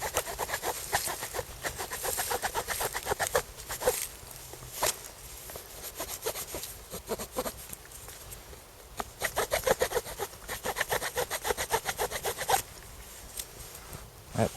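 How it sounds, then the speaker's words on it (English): The spine rasp of a SOG Seal Pup Elite knife notches wood outdoors in a forest, close rhythmic scraping strokes in quick bursts with short pauses between them. "I just completely love the rasp of this knife."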